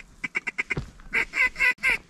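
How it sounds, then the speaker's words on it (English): Ducks quack in a quick series of short calls, followed by several louder, longer quacks, fairly close with quiet outdoor background during a hunt. "Bunch of ducks on the left."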